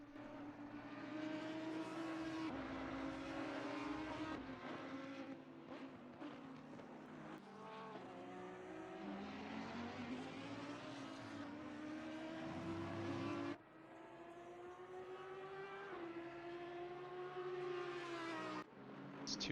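Race cars, including an Aston Martin, in a sim racing endurance race at the Nürburgring: a continuous, loud engine whine rising and falling through gear shifts, with steady revving and brief drops.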